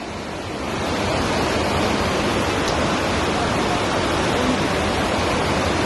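Floodwater rushes past the destroyed Chooralmala school in Wayanad as a steady, loud, broadband roar of torrential flow. The rush is continuous and close, with no voices during this moment.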